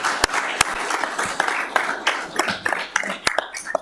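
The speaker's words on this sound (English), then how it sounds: "let's give him a round of applause" Audience applause for a man named Lee at a board meeting: steady clapping from a room of people with sharp individual claps standing out, continuing throughout at moderate volume.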